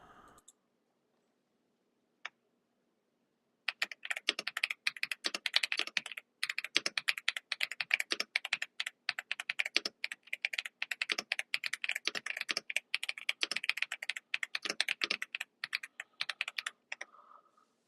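Rapid, close typing on a computer keyboard runs for about fourteen seconds, with dense irregular key clicks and brief pauses in quiet surroundings.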